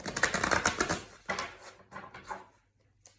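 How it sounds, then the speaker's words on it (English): Tarot cards riffle and flutter in quick papery bursts, close up, followed by a few softer taps and shuffles before a brief quiet. "do one last shuffle"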